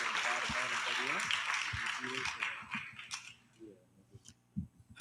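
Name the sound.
audience applause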